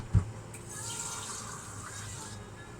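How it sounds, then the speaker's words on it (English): Tap water runs steadily into a pan to top up a simmering duck à l'orange sauce, a continuous close splash and hiss after a brief knock, with no talk. "So, top it up with some water."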